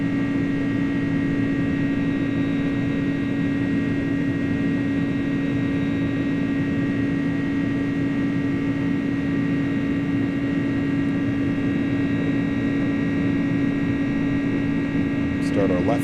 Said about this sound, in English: This airplane sounds so good once it's airborne.